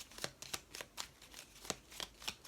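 Tarot cards being shuffled and drawn, giving a series of crisp riffling flicks and snaps in an irregular rhythm, close and fairly quiet, with no talking.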